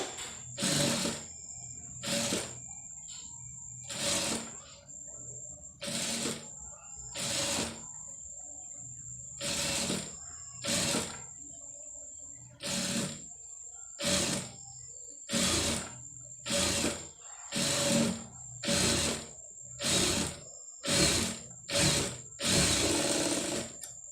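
A sewing machine stitching piping onto a lining with invisible thread, running in about fifteen short bursts separated by brief pauses, close and fairly loud with no talking.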